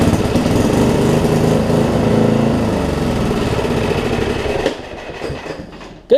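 A Murray riding lawn mower engine runs loud and steady close by with a rough, chugging drone, then sputters and dies away over the last second and a half before a brief sharp click at the end.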